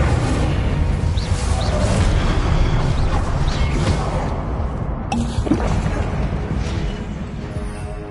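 Spell blasts in Hogwarts Legacy, dense back-to-back booms, bursts and whooshes from combat magic, loud and continuous with a sharp crack near five seconds, no clear pauses between impacts.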